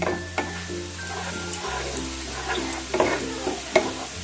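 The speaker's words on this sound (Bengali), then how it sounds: "কাঁচা লঙ্কা বাটা দিয়ে মশলাগুলো আমি ভালো করে পেঁয়াজের সাথে মিশিয়ে নিলাম" Spices and green chilli paste stirred into onions in a pan for boal fish kalia: quiet sizzling under repeated scraping stirs and light clinks, close and fairly soft, with a low steady hum behind.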